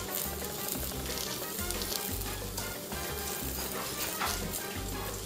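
A Cuban sandwich fries in butter under a pressing pan, giving a loud, continuous sizzle and crackle with steady spitting close by.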